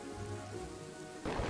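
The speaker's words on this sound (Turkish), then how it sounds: "Neyse, yağmur yağıyor." Steady rain falls in the village-building game Kingdoms and Castles after a lightning strike, an even hiss that swells louder near the end.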